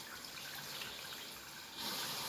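Tap water runs steadily into a sink during face washing, a continuous hiss that swells louder near the end as the flow is turned up, with no talking.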